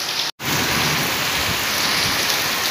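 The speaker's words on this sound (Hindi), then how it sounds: "आप लोग देख सकते हैं यहाँ पर कितना बारिश हो रहा है" Heavy rain pours steadily outdoors, a dense, loud, continuous hiss of drops on surfaces with a brief dropout near the start and no voices.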